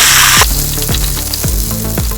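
Raisins, pistachios and other ingredients for fish pulao fry in hot oil in a pan, a loud, constant sizzle broken by four rhythmic spatula scrapes.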